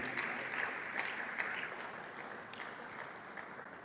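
Audience applause at a K-12 teacher technology conference, a steady dense wash of many hands clapping throughout, moderately loud and continuous with no talk over it.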